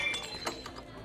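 Glass smashing in Life is Strange Double Exposure, a single sharp crash with tinkling shards, brief and fairly close, over faint background hum.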